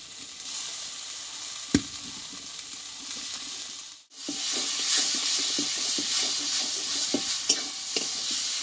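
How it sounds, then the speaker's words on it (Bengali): Boiled, hand-mashed potatoes sautéing in spiced masala in a pan, a continuous close frying sizzle with scraping stirring knocks, dropping out briefly midway before resuming louder and busier. "মশলাটার সঙ্গে ভালোভাবে আমি একটু আলুটা কষিয়ে নেব।"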